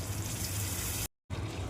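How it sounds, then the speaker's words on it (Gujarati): Water is poured into a chickpea-flour and yogurt gravy for spiny gourd curry, a soft steady rushing pour that stops abruptly, falls silent briefly, then resumes, quiet and close. "બસ આટલું જ પાણી નાખશું આપણે,"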